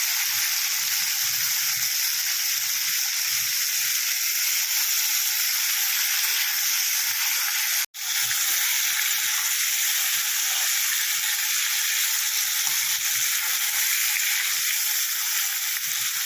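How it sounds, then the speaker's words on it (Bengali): Sea crabs fry in a pan for a spicy crab dish, giving a steady loud sizzle throughout with one brief dropout midway, and nobody talks. "খুব ভালো করে কাঁকড়াগুলোকে ভেজে নেব"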